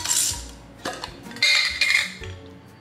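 Metal cutlery clinking and scraping against a container while solidified fat is lifted off chilled bone broth, a few sharp clinks and scrapes close by with quiet pauses between.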